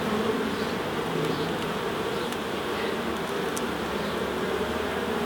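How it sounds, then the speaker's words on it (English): Honey bees in an open hive during an inspection, a dense, steady buzzing drone that holds at a constant level and sounds close, with no talking over it. "You see how many bees there is in there? It's quite jammed with them."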